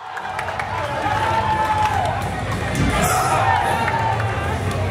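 A large cinema audience at a film premiere screening cheers and claps in a dense, continuous roar that swells slightly, with indistinct voices mixed throughout.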